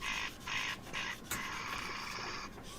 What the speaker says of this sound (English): Right, the compressor's on.